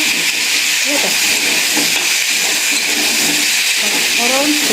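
Pointed gourd, potato and pumpkin frying in a pan for a curry, giving a steady loud hiss and sizzle throughout, with a voice talking faintly underneath.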